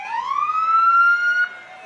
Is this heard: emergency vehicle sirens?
yes